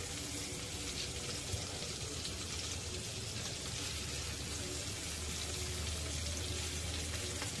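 Jitada fish pieces frying in a pan over low heat with minimal oil, giving a steady, dense sizzle and crackle that holds evenly throughout with no talking.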